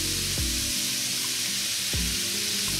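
Ginger hits a hot pan of beef and broccoli, setting off a loud, steady sizzle with two brief scraping stirs of the food.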